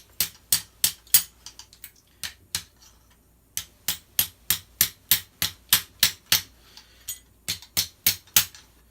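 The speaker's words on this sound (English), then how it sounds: "just hammer them down." Sharp, evenly spaced hammer taps knock parts of an airsoft G&P gas blowback M16A4 barrel assembly into place, coming in quick bursts separated by short pauses, close and clear with no talk.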